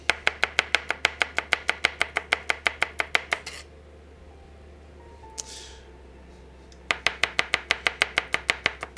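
A knife chops garlic on a cutting board in quick, evenly spaced strokes, close and crisp, pausing for a few quiet seconds before resuming at the same brisk pace; no talking.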